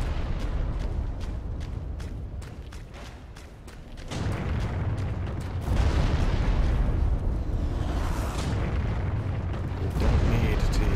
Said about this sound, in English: This area's loud. All these explosions and slamming and stuff.